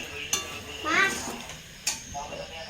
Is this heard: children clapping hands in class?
no